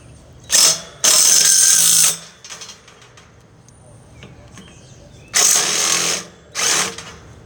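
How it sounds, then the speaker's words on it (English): A power drill whirs in several short bursts, driving screws, with quiet pauses and faint background sounds between the runs. "so now he's going to get a drill, and he's going to drill in the screws."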